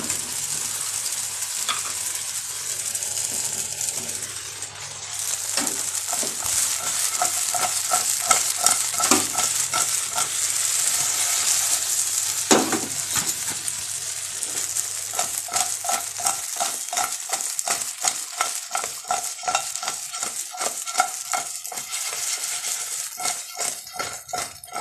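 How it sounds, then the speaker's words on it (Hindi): French fries are stirred and tossed in a frying pan with fried vegetables, a steady sizzle under repeated scraping and clinking strokes of a utensil against the pan, close and continuous throughout with no talking. "ये अपने फ्रेंच फ्राइज। अब इसे अच्छे से मिक्स करूँगी।"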